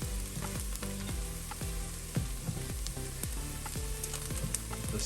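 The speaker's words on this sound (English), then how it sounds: "And then keep sauteing." Onion and garlic sauté in butter in a pan for tomato soup, a steady close sizzle and crackle broken by repeated scraping stir strokes, with no talking.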